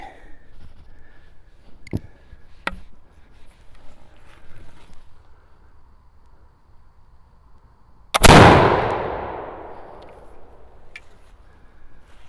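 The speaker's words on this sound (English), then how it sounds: "That is a Pennsylvania or Kentucky long rifle." A single loud flintlock shot from a replica Pennsylvania or Kentucky long rifle booms out after a few small clicks of handling, then decays in a long fading roar.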